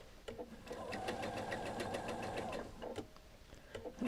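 A sewing machine stitching quilt border seams on a Lone Star quilt with a mitered border, a close, quiet burst of rapid needle clatter lasting a couple of seconds before stopping and giving way to light handling noises.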